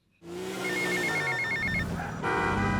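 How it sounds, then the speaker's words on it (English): A payphone rings in GTA Vice City Nextgen Edition, a steady electronic trilling ring that starts abruptly and continues loud and close, with no talk. "You can now answer the phone when driving or when running."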